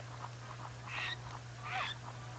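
Squawks the parrot calls in the video game Donkey Kong 64, with two brief squawks a moment apart over a steady hum and game background.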